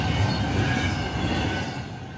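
A train rolls past on the rails in Charlotte, a loud, steady rumbling roar of wheels and cars that holds evenly from start to finish with no voices.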